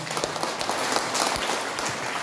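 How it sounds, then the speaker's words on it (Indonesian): A church congregation at a Christmas service claps briefly, a short burst of many hands clapping at moderate loudness, steady and without talk. "Tepuk tangan untuk Tuhan Yesus."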